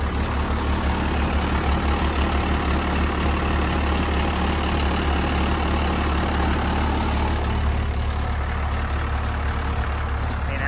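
Sumitomo HA60W-5 asphalt paver with a six-cylinder turbo engine idles in a steady, low, continuous rumble, heard close and alone for several seconds.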